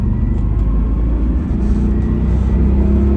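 A Bentley luxury limousine engine hums at a deep, steady rumble as gas is applied, close and loud, with a smooth low drone and little audible rise in pitch.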